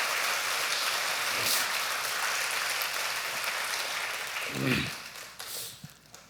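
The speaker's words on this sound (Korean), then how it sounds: "우리 크게 박수 한번 하겠습니다." A church congregation claps together at a Sunday worship service, a steady broadband patter of applause that fills the room and then tapers off, with a few louder thumps near the end.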